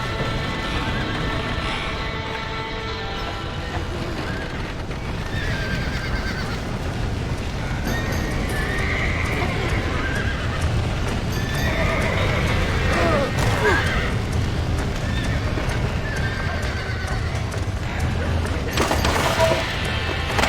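Horses whinny and gallop with clip-clop hooves in Red Dead Redemption, a dense, loud, continuous scene with repeated neighs over busy background action and voices talking.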